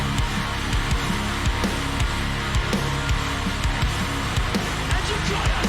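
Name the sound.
guitar in a song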